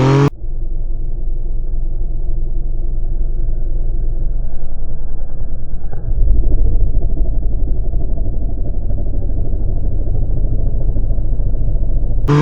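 A Yamaha MT-09 motorcycle engine rumbles close by, a steady low growl that swells louder partway through as the throttle opens for a wheelie, then holds a heavier drone.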